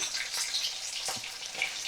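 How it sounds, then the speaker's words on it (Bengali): Fish rubbed with salt and turmeric frying in a pan over medium flame, giving a steady close crackling sizzle with soft bubbling pops throughout. "আর একবার একটু ভাজা করে নিচ্ছি"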